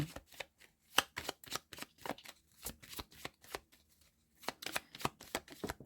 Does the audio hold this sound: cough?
no